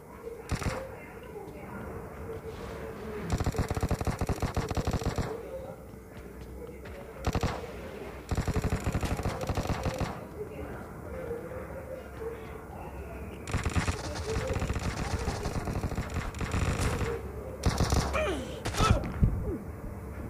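A Tommy gun fires in PUBG in several rapid automatic bursts of several seconds each, separated by short pauses. Someone talks over and between the bursts.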